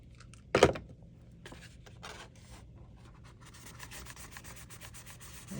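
Fingers rub a paper rose petal coated with hot glue: one sharp, loud scrape early on, then soft, intermittent rubbing and brushing strokes, quiet and close.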